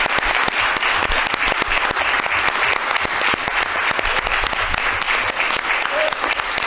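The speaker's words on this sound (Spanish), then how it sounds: "os paro ya el aplauso" Audience at a panel discussion applauds with sharp, dense clapping that continues steadily at close range for several seconds without pause.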